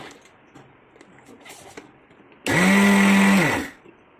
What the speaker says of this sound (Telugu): చల్లారి పెట్టిన దానిలో కలిపేసి మిక్సీ చేసుకోవాలి